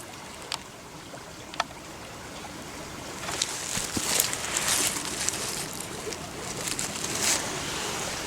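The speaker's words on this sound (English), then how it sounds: "You can probably hear the creek running." Creek water running through Ozark woods in southwest Missouri, a faint, steady wash of flowing water with scattered close clicks and rustles, growing slightly fuller in the second half.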